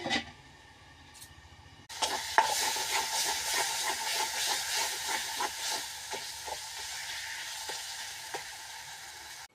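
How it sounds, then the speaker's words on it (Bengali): Khatta (sour) leaves frying in a pan give a steady, close hiss and sizzle that jumps louder partway through and carries on with small crackling pops, no voices. "টক পাতা ভাজা হয়ে গেছে"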